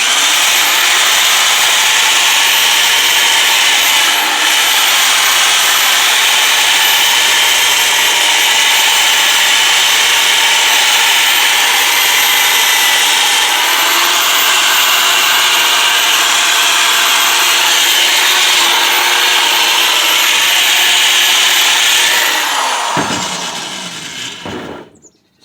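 A power polisher working an aluminum slotted mag wheel, a loud steady high-pitched whine held for over twenty seconds with slight pitch dips under load, close up, then spinning down and stopping at the end.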